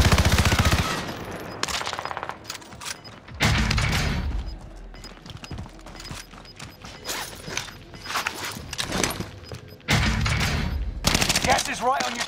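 Rapid-fire bursts from an H1 Blitz in a Call of Duty battle royale match, loud repeated volleys in several bursts over game ambience and faint movement.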